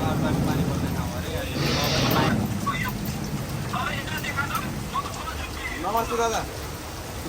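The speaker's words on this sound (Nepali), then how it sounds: "It's raining guys, it's raining. It's literally raining." Rain falling in Dubai makes a steady broadband patter outdoors, with voices talking over it throughout.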